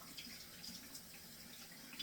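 Warm water runs steadily from a kitchen tap as hands are rinsed during preparation of St. Louis-style pork ribs, a continuous even gush with no talking.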